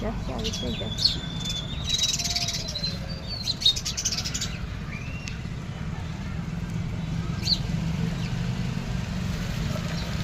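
Mynas feeding on sev chirp and call in short bright bursts during the first few seconds, then more sparsely, over a steady low outdoor rumble and faint insect buzz, while a person talks nearby.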